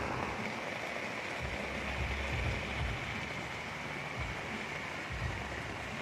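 Steady rain falling on a Saturday during a chicken-smoking session outdoors, a faint, even hiss of drops with no breaks and no voices.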